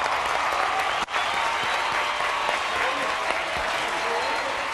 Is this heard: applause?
yes